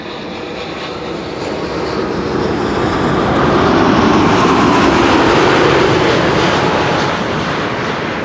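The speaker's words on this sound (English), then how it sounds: "This is a Dreamliner 78710, 5 hours and 21 minutes, the duration of the flight." A Boeing 787-10 Dreamliner landing on Runway 06 at Amsterdam Schiphol roars as a broad, loud jet rumble that builds to a sustained peak and then eases slightly as it passes, with no voices.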